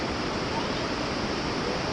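Creek water rushes on a hike near a waterfall, giving a steady, dense broadband roar with no breaks, close and fairly loud throughout the brief stretch and free of voices.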